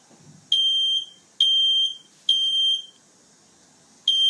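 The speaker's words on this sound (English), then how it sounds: "it is alerting us on our phone about the fire alarm sounds ringing in our home" A home smoke or fire alarm sounds in four loud, shrill electronic beeps, each about half a second long and evenly spaced, with quiet gaps and no talking.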